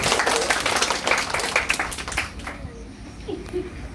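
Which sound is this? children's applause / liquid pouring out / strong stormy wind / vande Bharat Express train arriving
children's applause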